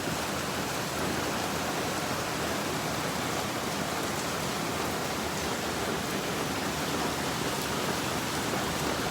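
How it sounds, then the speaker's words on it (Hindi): Heavy monsoon rain pouring down outside a home during a thunderstorm, a dense, steady roar of downpour close by and unbroken, with no talking. "बारिश जो है मूसलाधार हो रही थी।"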